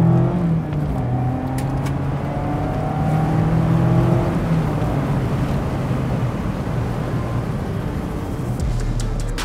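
A 2024 Mazda MX-5 ND on a race circuit, its engine loud and close as it brakes, downshifts and accelerates out of a corner, with rising and falling engine tones throughout and no speech.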